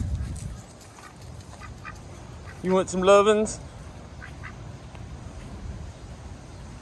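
A pet duck by a backyard pool lets out a short burst of close, loud quacks in the middle, with a person's voice speaking softly to it and a low outdoor rumble underneath.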